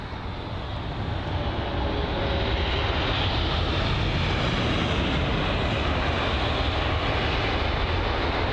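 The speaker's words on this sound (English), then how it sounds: "So once again, love the 777. This one, the United Jet." A United Boeing 777-200 jet arriving from Houston at London Heathrow roars loudly and continuously, the broad engine rumble swelling slightly as it passes close overhead, with no talk.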